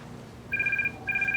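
An electronic telephone ringtone sounds in two short bursts with a brief pause between, over a low background hum.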